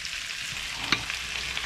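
Beef sizzles and fries steadily in a pan for a beef stew, a constant hissing crackle with one brief louder pop, close up and with no voices.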